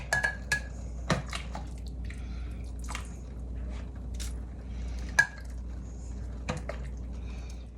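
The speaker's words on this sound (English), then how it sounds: "And I have 2 crocks that I'm going to ladle my soup into." French onion soup ladled into two crocks: scattered soft clinks of a ladle against crockery and wet splashes, sparse and close, with a low steady hum underneath.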